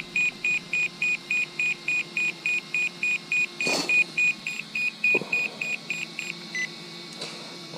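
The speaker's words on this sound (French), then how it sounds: "il s'est mis en bip bip prolongé." Rapid electronic beeping from a Bison V2 electronic speed controller in an RC car, in a steady repeated rhythm, high-pitched and fairly close, continuing for several seconds before breaking off and fading.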